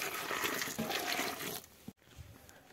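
Water gushes and splashes as it is poured into a container of cattle feed for mixing, a close rushing pour that cuts off abruptly, followed by faint shuffling sounds.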